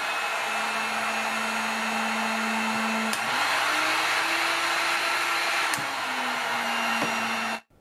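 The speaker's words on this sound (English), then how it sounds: "The heat gun could run on low at about 600 watts for an extended period of time with no" A heat gun running on its low setting at about 600 watts, powered by a triple-socket power tool battery inverter, makes a steady, loud, close whirring blower hum that holds for several seconds and then cuts off abruptly.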